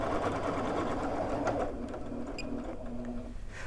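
A long arm quilting sewing machine stitches continuously, its steady mechanical whir and needle chatter shifting between faster and slower speeds, loud and close throughout.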